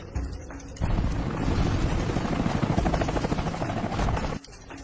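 A helicopter passes close by over farmland, a loud, steady rotor roar that swells in quickly, holds for several seconds with faint pulsing, then cuts away abruptly.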